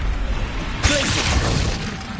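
Glacius freezing spell shattering ice in Hogwarts Legacy, a sudden bright crystalline burst with a brief whoosh that rings out and fades over a low rumbling game background.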